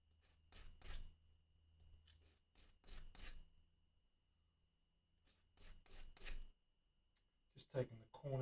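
Sandpaper rubbing the edges of a guitar part, several short rasping strokes in quick bursts, close and fairly quiet, with pauses between sets of strokes.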